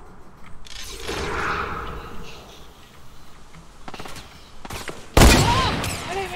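Rapid gunfire bursts and whooshes in a Fortnite Battle Royale match, with scattered shots early on and a loud, close volley near the end while a player talks over the action.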